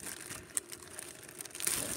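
Soft crinkling of plastic packaging being handled up close while unboxing a hard drive docking station, quiet rustles and crackles with a brief sharper crinkle, no voices.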